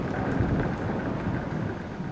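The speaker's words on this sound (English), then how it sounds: "Now it's rainy." Steady rain with low rolling thunder in the video game Flower, a continuous wash of hiss over a deep rumble, moderately loud and unbroken with no talking.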